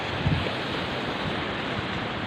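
Sea waves wash steadily against a low coast with gusty wind mixed in, a soft continuous roar without distinct breaks.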